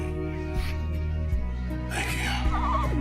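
A dying horse in Red Dead Redemption 2 lets out a strained, wavering whinny near the end, over a steady low tonal backdrop of game music and ambience, with a couple of soft snort-like bumps earlier.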